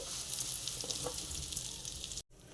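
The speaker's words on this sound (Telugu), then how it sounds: "ఇప్పుడు సేమియా వేయించుకుంటున్నానండి. సిమ్లో పెట్టుకొని వేయించుకోవాలండి." Semiya vermicelli frying in a pan over low heat, giving a steady, fine hiss and crackle close by, with no talking, then cutting off abruptly near the end.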